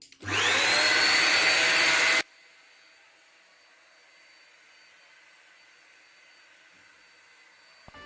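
A vacuum steamer roars loudly and steadily while cleaning a stain off a floor, cutting off abruptly after about two seconds and leaving a faint background hiss.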